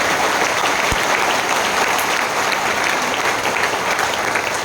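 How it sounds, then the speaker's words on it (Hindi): Loud, dense applause from a large crowd at a business conference in Ranchi, a steady wall of clapping that holds for the whole stretch without letting up. "जोरदार तालियां।"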